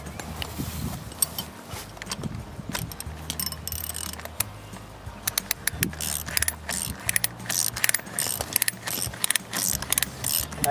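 A ratchet tensioner is worked by hand to tighten electric fence wire, giving repeated close clicks and metallic rattling, with quieter handling noise early on and denser, louder clicking later.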